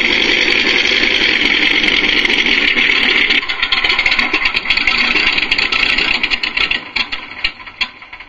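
A MrRCSound V4 engine sound module on an RC model throttles up, giving a loud, steady synthetic engine roar with a buzzing rattle that holds, then breaks into uneven pulses and fades toward the end.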